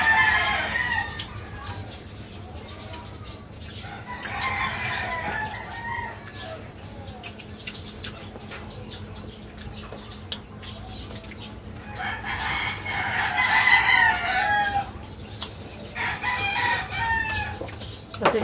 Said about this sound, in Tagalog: umaga sobrang ingay ng mga manok ba. Maraming manok po dito mga idol.